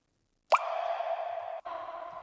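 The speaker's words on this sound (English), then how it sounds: "Then, a water drop." A single synthetic water-drop plop, sharp and bright at onset, followed by a sustained tonal ring that briefly cuts out and resumes. No voices.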